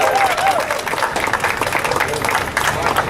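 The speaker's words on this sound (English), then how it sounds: "Can we have a round of applause for Don Davies?" Audience applause at a political meeting in Ottawa, dense clapping from a crowd held steadily throughout, loud and close, with some voices underneath.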